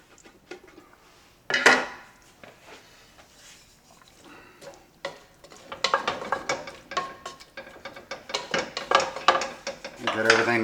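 Beef juices drained from a pan at a kitchen sink, with clattering metal knocks, scrapes and pan handling in irregular bursts that grow busier toward the end.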